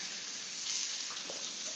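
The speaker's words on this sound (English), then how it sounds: "I can hear that sizzling." Steady hissing sizzle of food frying in a pan, a continuous crackly noise with no voices, fairly quiet and even throughout.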